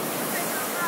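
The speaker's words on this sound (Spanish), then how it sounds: "Se ve chido las olas y esa mierda." Ocean waves on a New York City beach make a steady, loud, broad rush of surf, close and unbroken for under a second, with wind noise on the microphone.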